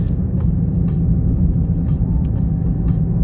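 Car engine pulling uphill on a mountain road near Big Bear after snowfall, a steady loud low rumble and drone close inside the cabin, even throughout with no speech.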